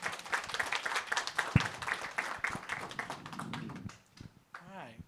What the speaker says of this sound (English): So quick round of applause for our panelists today.